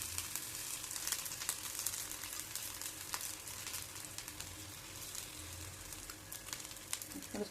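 Aloo paneer tikka deep frying in oil gives a steady, dense sizzle with crackling bursts throughout, moderately loud and continuous, with no voices over it.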